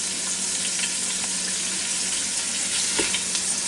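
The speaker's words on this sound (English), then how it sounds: "I'm going to start just breaking it up with this masher crusher here." Ground beef sizzles steadily in a Ninja Foodi pot as a masher breaks it apart, a dense crackling hiss with faint scraping and soft knocks, close and continuous with no talk.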